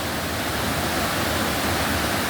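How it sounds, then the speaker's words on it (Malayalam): A steady, full rush of water pouring down at Aruvikuzhy waterfall near Kottayam, Kerala, heard up close as a thick continuous roar with nothing else on top. "താഴേക്ക് വെള്ളം പതിക്കുന്നു."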